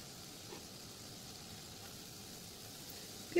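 Fish roe fritters fry in oil in a covered pan, a soft, steady sizzle held at an even low level, faint and continuous with a small knock at the very end.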